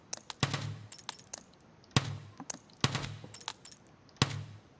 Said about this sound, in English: fire a couple shots to distract him